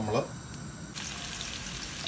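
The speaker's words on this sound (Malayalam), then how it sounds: "അപ്പം ബട്ടറിനകത്ത് വേണം നമ്മൾ ചിക്കൻ വറക്കുന്നതിന് വേണ്ടി, അതിനുവേണ്ടി വറക്കാൻ വെക്കുകയാണ്." Chicken pieces fry in butter in a pan for butter chicken, a steady close sizzle with a brief louder clatter at the start, heard without talking.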